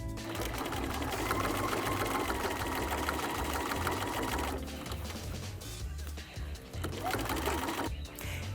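A sewing machine stitches darts into the waist of a pair of jeans, running in a steady close whir for about four and a half seconds, then continuing in shorter bursts with brief pauses.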